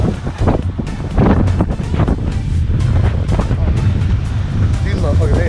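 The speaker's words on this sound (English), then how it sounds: "Very windy up here." Strong wind buffets the microphone with heavy low rumbling gusts on a Honolulu shoreline, while waves wash in the background and someone talks briefly.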